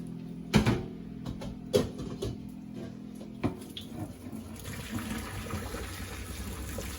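Water splashes and pours steadily from a pot of boiled salt mackerel into a sink, with a few clanks and knocks of the pot at the start.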